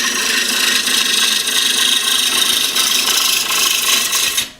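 A woodturning tool cuts a tenon into spinning wood on a lathe, giving a loud, continuous rasping scrape that holds steady for several seconds and then stops abruptly.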